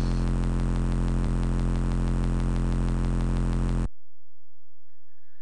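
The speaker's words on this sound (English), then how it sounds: "You hear a loud humming sound. It continues to get louder." Loud, steady electronic hum from a fusion generator in the video game Mean Streets, a dense buzzing drone that holds for about four seconds and then cuts off abruptly into near silence.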